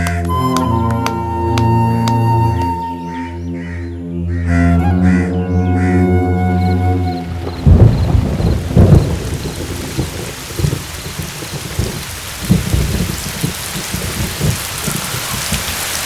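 Heavy rain with thunder pours down after a stretch of sustained musical tones; a dense hiss of rainfall with low rumbling thunder swells and scattered cracks continues loudly to the end.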